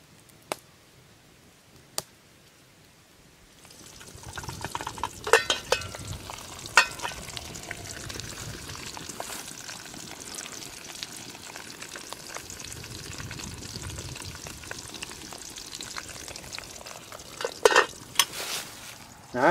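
Beef fat rendering into tallow in a pot over a low fire, a soft steady sizzle with scattered crackles and pops that starts after a few quiet seconds and continues alone.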